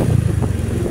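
A loud Rusi Sigma 250 motorcycle with a direct exhaust rumbles with a rough, popping exhaust note, close by and steady for a brief moment.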